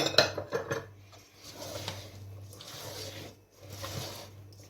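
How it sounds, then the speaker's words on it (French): Nougat glacé mixture folded in a bowl, with a few sharp utensil clinks against the bowl at the start followed by soft, steady scraping and stirring, moderately close and fairly quiet. "Et vous mélangez bien en prenant bien au fond pour pas qu'il reste deux morceaux"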